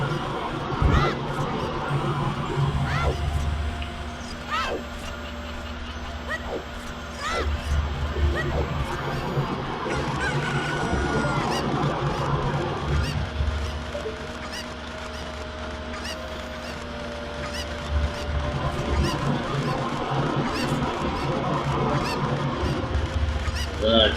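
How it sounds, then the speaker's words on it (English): Honking, squawking fowl calls from chickens in the video game The Legend of Zelda: Ocarina of Time repeat over a busy, continuous game soundscape, with occasional faint talking. "There's another chicken there."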